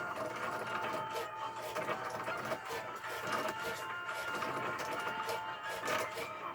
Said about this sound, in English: I'm only printing 1 of each right now.